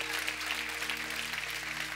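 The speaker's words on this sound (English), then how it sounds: "Give God a big hand clap, amen?" A church congregation claps together in a continuous wash of applause at moderate level, with a steady low hum underneath.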